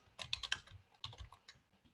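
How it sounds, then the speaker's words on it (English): Fingers typing on a computer keyboard to enter a message into an online chat, a quiet, uneven patter of close key clicks in two short bursts. "So I'm just typing that into the chat down here on the left."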